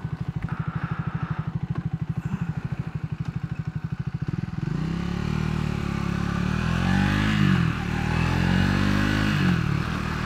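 A Triumph 400 single-cylinder motorcycle engine idles with a rapid, even thumping pulse, then revs up into a louder, rising and falling roar close by.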